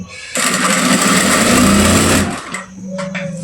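A sewing machine stitches pin tucks close to the edge of fabric, a loud steady whirring run of about two seconds, then stopping, with a faint voice afterward.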